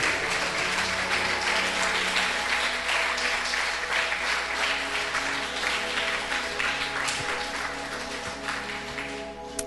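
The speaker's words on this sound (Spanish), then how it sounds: "Denle un aplauso al Señor." A church congregation claps together in praise during a service, sustained dense applause filling the room for nearly ten seconds and tapering slightly toward the end.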